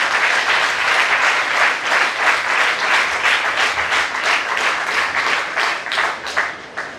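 Loud, sustained applause from a seminar audience in Kaithal, Haryana, with a steady wash of clapping and a slightly pulsing rhythm for about seven seconds, then easing off near the end.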